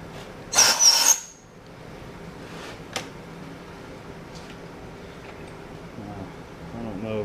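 A power drill whines in one short, loud burst as it bores through stainless steel, then a sharp click and a quiet stretch with faint handling noises.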